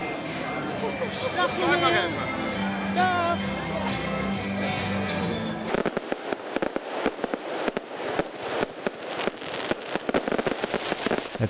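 A crowd murmurs, then a rapid series of sharp fireworks bangs and crackles begins at the Marialus festival, popping irregularly and densely at a moderate distance.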